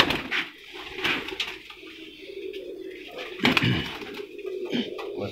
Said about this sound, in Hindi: अब हम इस कबूतर को आपको खुला छोड़ कर दिखाएँगे